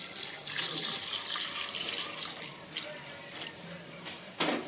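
Hot water pours and splashes into a cooking pot of mutton nearby, a steady wet rush with a few louder knocks near the end, no talking.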